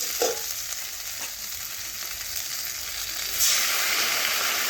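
Chopped tomato sizzles among onions already fried reddish-brown over low heat in a pan for a fish-bone curry, a steady close frying hiss that brightens slightly near the end.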